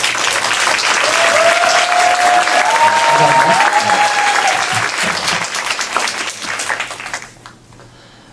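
A seated audience at a company leadership gathering gives homeroom teachers a full, dense round of applause that holds strong for several seconds, then thins out and fades, with a voice speaking briefly near the end.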